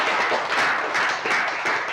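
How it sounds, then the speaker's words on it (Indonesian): A room full of people applauds a presenting group at a university lecturer-certification teaching session, steady dense clapping throughout with no talk. "Tepuk tangan dulu buat kelompok 3."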